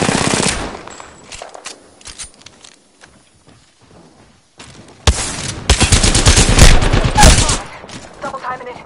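Gunfire in Apex Legends: bursts of automatic fire and single shots, some near and loud, others sparse and farther off, with a dense rapid burst in the second half.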